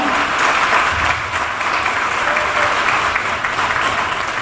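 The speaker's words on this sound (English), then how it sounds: "A huge round of applause for Lisa." Applause from a town hall audience in Sonoma, a dense sustained clapping lasting the whole stretch, close and lively with no speech over it.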